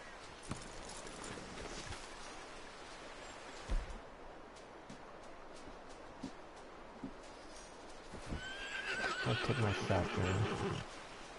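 A horse in Red Dead Redemption 2 gives a loud whinny near the end, preceded by scattered hoof clops, rustles and quiet ambient game sounds.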